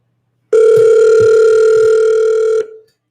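A single loud, steady telephone ringing tone sounds for about two seconds before cutting off, with no talk over it.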